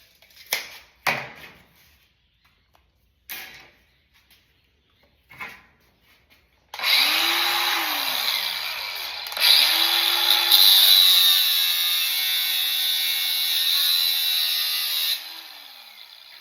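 A power tool cuts a stainless steel bracelet blank to length, a steady loud whine running about nine seconds after a few sharp knocks and handling clatters, with a brief pitch rise partway through.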